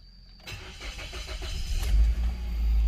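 A Mazda2, which had been cranking silently with a flashing key light, starts after a key repair: a brief starter crank catches and builds into a steady, loud engine idle close by with no talking.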